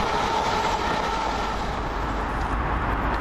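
A fast Ayr to Glasgow Central train roars past close by at Cardonald with a loud, steady rumble and rushing noise, and wind buffets the microphone throughout.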